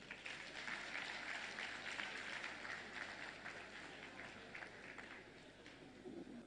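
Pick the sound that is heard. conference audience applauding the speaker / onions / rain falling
conference audience applauding the speaker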